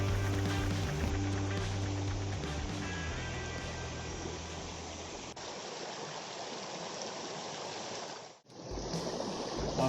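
Forest river stream flowing beside a mountain trail at about 1040 m elevation, a steady broadband water rush with a brief dropout near the end.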